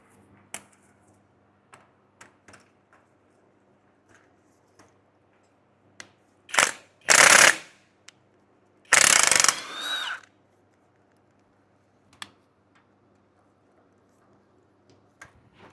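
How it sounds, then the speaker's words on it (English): A ratchet unbolts the brake caliper on a Jeep Wrangler, with two loud bursts of rapid clicking separated by a short pause, plus scattered single metallic clicks and taps before and after in a quiet garage. "Now I'm going to go ahead and unbolt it"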